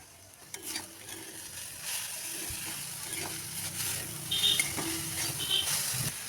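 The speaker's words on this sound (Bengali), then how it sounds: "এবারে আছে একটা কড়াই বসিয়ে তাতে পরিমাণ মতো তেল দিয়ে দেব গ্রেট করে রাখা বিট, গাজর, সামান্য নুন, হলুদ" Grated beetroot and carrot fry in oil in a wok, a steady soft sizzle broken by scraping, clattering stirs of a spatula against the pan, close and without talk.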